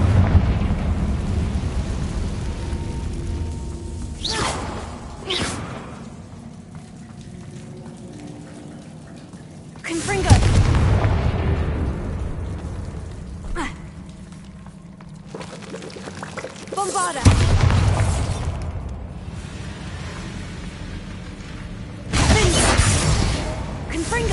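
Confringo blasting spell explosions in the video game Hogwarts Legacy, several loud, crashing bursts with a rumbling, shattering tail, separated by quieter stretches where a character talks.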